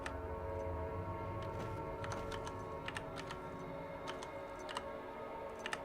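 Sharp irregular clicks from Legend of Grimrock II, dungeon-crawler gameplay, scattered in small clusters over a steady low ambient drone, with no voices.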